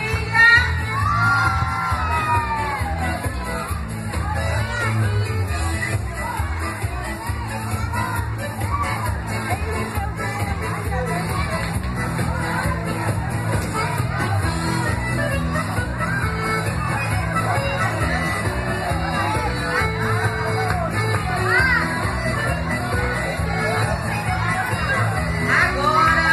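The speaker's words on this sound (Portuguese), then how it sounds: "Cadê os aplausos da quadrilha? Eita quadrilha retada!" Crowd at a school quadrilha festival cheering, shouting and whooping continuously with children's yells and an announcer's voice over the steady loud din.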